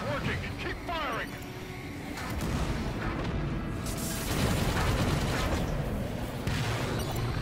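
Rolling booms and bursts of weapon fire at Phantom dropships in Halo 5: Guardians, heavy blasts swelling in loudness over several seconds with game voices heard over the clamour.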